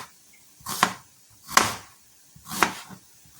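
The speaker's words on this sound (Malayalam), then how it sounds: "സവാളയൊക്കെ അരിയാം" Onions being cut with a knife for chicken fried rice in a home kitchen: three separate, sharp chops close by, roughly a second apart, with quiet between them.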